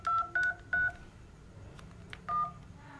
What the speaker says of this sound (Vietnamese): các phím bấm này.